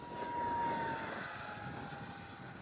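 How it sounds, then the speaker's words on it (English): A 50mm electric ducted fan RC jet at full throttle flying into the wind, a steady high whine with a faint whistling tone, constant and moderately distant. "Full throttle against the wind."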